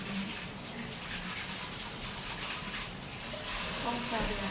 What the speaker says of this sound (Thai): ขอนุญาตล้างมือ